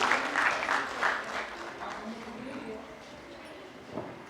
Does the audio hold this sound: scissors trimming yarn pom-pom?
no